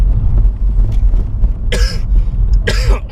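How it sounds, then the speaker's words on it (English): Two loud, harsh coughs close to the microphone, spaced about a second apart, over a low rumbling background. "Sorry about all the coughing as well."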